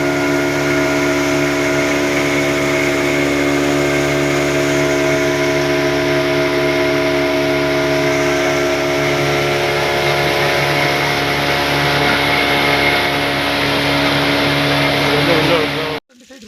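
A boat engine carries a fire crew across the water near Ooty, a loud, steady droning hum with even tones that holds unbroken for about sixteen seconds before cutting off abruptly.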